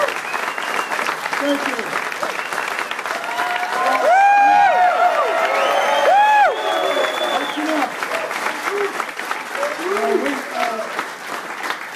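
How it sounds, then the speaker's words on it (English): A crowd applauds and cheers as the head football coach of the University of Michigan is introduced. The clapping swells loudly in the middle and then fades, while he speaks briefly over it. "I appreciate that, but we haven't won a game yet, so I would hold your applause"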